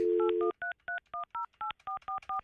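A telephone keypad dials on a live morning radio show: one long tone, then about ten short, evenly spaced touch-tone beeps, clear and close with no voices.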